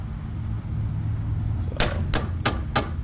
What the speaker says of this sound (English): You see the camera shaking from the jostling that the hammering the nail in is doing.